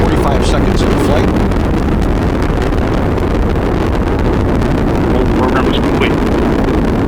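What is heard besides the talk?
Atlas rocket carrying OSIRIS-REx in flight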